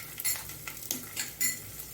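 Grated garlic and ginger sautéing in a pan for a ragi soup give a soft, close sizzle, broken by a few light stirring scrapes and clinks of a utensil.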